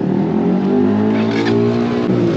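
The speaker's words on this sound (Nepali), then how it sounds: "यो ड्युकमा चाहिँ 390 साइलेन्सर हालिदिएर रहेछ।" A KTM Duke 250 motorcycle fitted with a 390 exhaust silencer revs at a bike meet, its engine a steady, loud, close-up drone that holds for a couple of seconds without a break.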